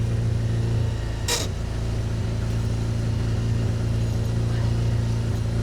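A 1960 Triumph Herald's engine idles with a steady, even hum, broken once by a brief hiss of noise.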